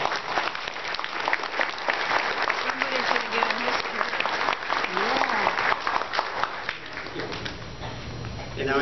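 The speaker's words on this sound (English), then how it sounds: "How about a round of applause?" Sustained applause from an audience at an appreciation event honoring guest hostess Kristi Yamaguchi, full and steady before tapering off near the end, with a voice speaking over part of it.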